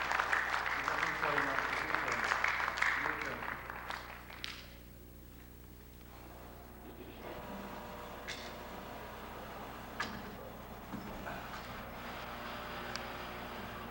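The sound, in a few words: audience applause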